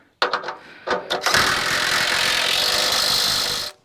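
A John Deere 2038R compact tractor engine revs up after a few sputters and then roars loud and steady close by for a few seconds before cutting off.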